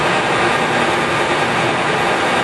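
A Cincinnati #3HD horizontal milling machine runs at 147 RPM, giving off a continuous, even mechanical whir with a broad hiss. It holds steady and close with no voices.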